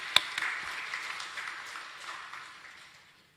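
A church congregation at a Baptist service breaks into applause, a soft, even patter of many hands clapping for about three seconds before trailing away.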